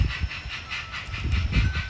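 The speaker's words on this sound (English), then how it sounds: "So I highballed it through Chillicothe a little bit, just so you can see the steam engine" A steam locomotive hauling an excursion train rushes past at speed, a dense, loud roar of hissing and rolling rail noise with rhythmic pulsing, close by and no voices.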